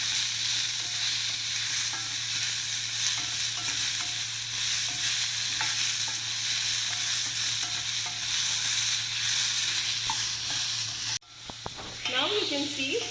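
Onion and tomato sauteing in a pan, a steady close sizzle with stirring scrapes that run for about eleven seconds, then a sudden drop to a quieter hiss with a few faint clinks near the end.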